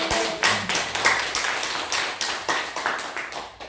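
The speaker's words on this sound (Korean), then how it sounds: "이 시간 우리 하나님께 감사의 박수 한번 올려드릴 수 있도록 바랍니다." A church congregation claps during a Sunday worship service. Scattered, fairly close handclaps come in uneven bursts with brief dips between them, and no voices are heard over them.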